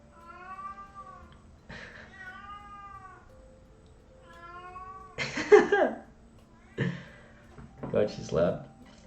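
A pet cat lets out several loud, drawn-out meows close by, alternating with someone talking over the top.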